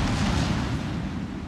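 Secondary guns on a cruiser in World of Warships, the French-named New Orleans Tier 8 ship, fire as a dense, continuous barrage of booming reports that merge into a loud rumbling wall of sound with no talk.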